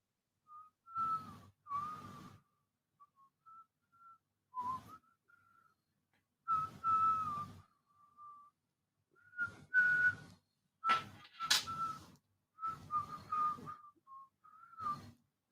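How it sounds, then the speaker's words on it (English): A person whistles the national anthem in short melodic phrases separated by pauses, close and clear with no other sound. "just whistling the anthem"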